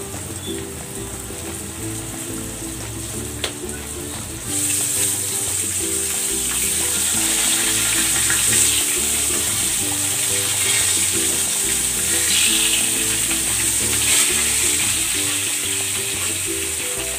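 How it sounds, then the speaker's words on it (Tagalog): Milkfish (bangus) steak frying in a pan, a steady bright sizzle that jumps louder partway through and keeps crackling over a repeating musical pattern in the background. "Pwede na natin itong iprito."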